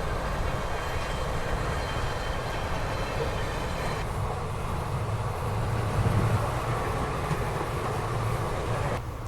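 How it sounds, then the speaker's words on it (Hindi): The Patna Rajdhani Express runs on a parallel track, a loud, steady rumble and roar of a passing train close by, continuous throughout with a slight swell in the middle. "ये देखो, ये जो आप ट्रेन देख रहे हो ये पटना राजधानी है"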